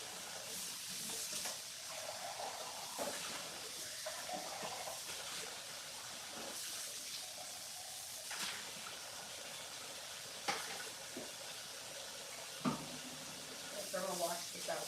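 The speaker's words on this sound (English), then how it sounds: "Let Grandma wash this out for you. Hold on, Grandma wash your cup" Kitchen tap water running steadily while a cup is washed out, with occasional clinks and a voice speaking in between.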